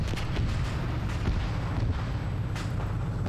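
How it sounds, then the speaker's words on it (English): A BTR armored vehicle in a military video game fires on a compound, a dense, continuous rumble of heavy gunfire and booms that fills the whole stretch at steady loudness. "One times BTR still alive, that's firing upon the compound."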